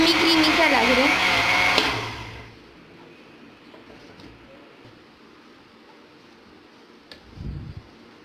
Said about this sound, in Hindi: अब हम इसको अच्छी तरह ब्लेंड करते हैं। देखिए ब्लेंड हो रहा है,